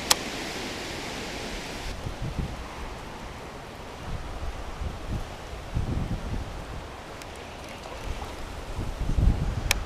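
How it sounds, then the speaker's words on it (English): Strong wind blows outdoors beside a small drain, a steady rushing roar buffeting the microphone with gusts that swell toward the end, no speech. "Wind's getting pretty brutal"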